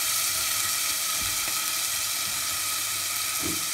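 Sliced meat and mushrooms sizzle in a hot pan for Geschnetzeltes, a steady close crackling hiss with a few soft clinks of a utensil and no talking.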